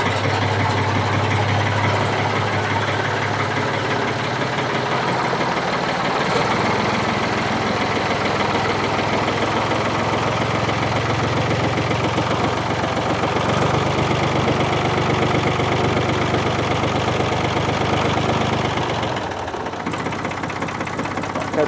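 A repaired Ford 4000 tractor engine runs steadily at a close, rough idle with a constant knocking chug, then dips briefly near the end.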